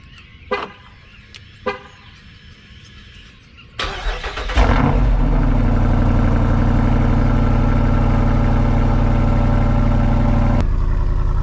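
Jeep Wrangler 392 V8 with AWE exhaust, valves open, cold-starting: two short clicks, then the starter catches at about four seconds into a loud, steady, deep rumbling high idle that runs on alone to near the end.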